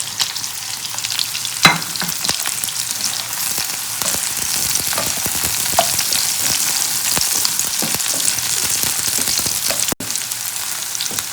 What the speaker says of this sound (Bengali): অনিয়ন গার্লিক লোক অ্যান্ড চিলি এটা ভাজা হতে হতে